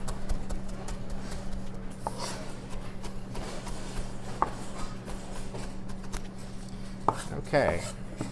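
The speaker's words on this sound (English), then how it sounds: "I am going to chop them so that they are a finer little chop on them" A knife chops salad ingredients, including Tuscan kale, on a cutting board in steady repeated thuds with a few sharper knocks, close and clear with no talking.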